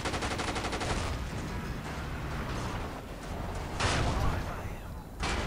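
Gunfire in the video game Battlefield 2 sounds as bursts of automatic shots at the start and again around the fourth second, under quiet game ambience, with a player speaking French over it.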